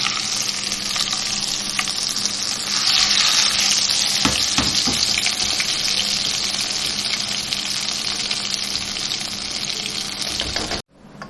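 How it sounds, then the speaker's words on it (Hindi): A hot tadka poured into kadhi for kadhi pakora bursts into a loud, rushing hiss and crackle that surges mid-way, then holds steadily for about ten seconds before cutting off abruptly. "थोड़ा सा भगार मैं अभी डाल देती हूँ।"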